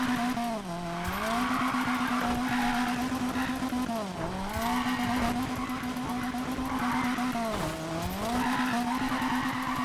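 In the Need for Speed Payback racing game, a Nissan S13 drift car holds a loud, sustained engine drone with continuous tire squeal, its pitch dipping and rising as it swings through corners, while a person talks over it.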